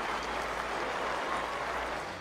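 A cricket crowd at Headingley during a Pakistan versus Australia Test rises to its feet in sustained, even applause, a faint and distant wash of clapping.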